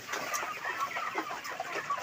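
Broiler chickens clucking softly in a farm shed, a faint, busy cluster of overlapping clucks without pause, heard from nearby at low volume.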